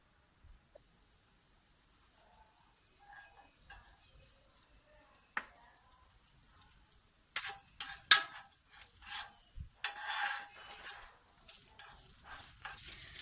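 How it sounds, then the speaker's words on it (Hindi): Peeled, chopped garlic hits hot oil in a home kitchen pan and begins frying, a soft crackling sizzle that swells after a quiet start, with a few clinks of utensils. "अब मैं इसमें डालूंगी छिला हुआ और कटा हुआ लहसुन डालूंगी इसमें"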